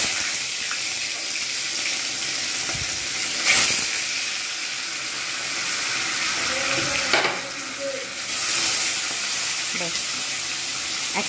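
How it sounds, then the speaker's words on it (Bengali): Rohu fish pieces fry in hot oil over a medium flame, producing a loud, continuous crackling hiss with brief louder surges as pieces go in, heard close by. "এবার একটা একটা করে আমি মাছ ছেড়ে দেবো।"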